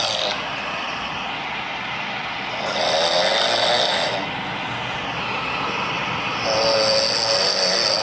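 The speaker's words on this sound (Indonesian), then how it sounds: "Ini beneran ngorok ya?" A person snoring loudly, with two long rasping inhaled snores separated by quieter breathing, close and steady with no talk.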